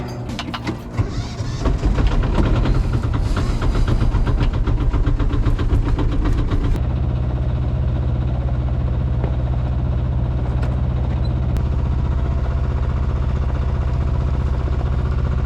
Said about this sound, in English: Just turn on the motor.